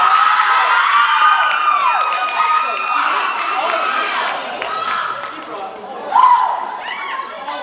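An audience at an anime convention makeup contest cheers, whoops and claps for a contestant, loud, with high shouts rising and falling over the crowd noise.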